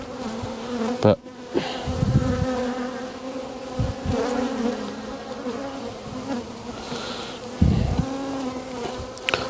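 Dense, steady buzzing of many honeybees close by around an open hive in the rain, with a few soft knocks and handling thumps; a single brief word is spoken.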